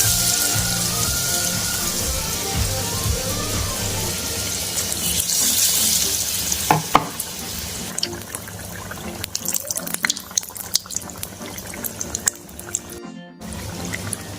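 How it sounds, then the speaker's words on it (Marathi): Besan-coated potato vadas fry in hot oil in a kadai with a loud, continuous bubbling sizzle. It surges as they go in, then settles into crackling pops and spits over about fourteen seconds without talk. "बेसनामध्ये बुडून आपण आता कढईत टाकत आहोत."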